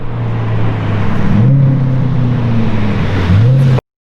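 A Corvette C8 with a custom exhaust drones loudly at close range, with two quick rev blips as it downshifts before the sound cuts off abruptly.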